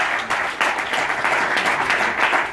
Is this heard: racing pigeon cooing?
no